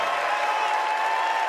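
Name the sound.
convention crowd applauding Jesse Jackson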